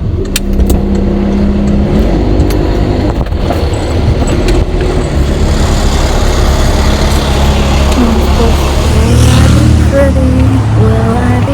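A car pulls out of a parking space nearby, its engine a steady loud rumble with a slight rise in revs toward the end, heard alongside road and traffic noise.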